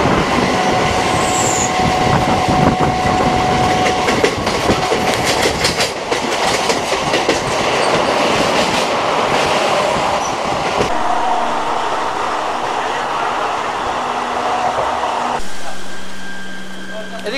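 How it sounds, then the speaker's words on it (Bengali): Interior of a nearly empty passenger train running on rails, a loud continuous rumble with clattering wheels and squeal, steady throughout and shifting in tone toward the end. "ট্রেনে উঠে গেলাম, ট্রেন পুরো ফাঁকা, কত সিট, সব জায়গায় পুরো ফাঁকা ট্রেন।"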